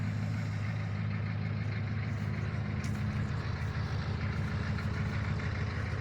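A 1982 GMC High Sierra K20 pickup with a 6.2 Detroit diesel idling nearby, a steady low rumbling clatter that holds even throughout.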